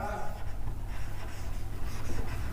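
Chalk or marker scratching on a board during a physics lesson, soft strokes repeating under a teacher's steady talking.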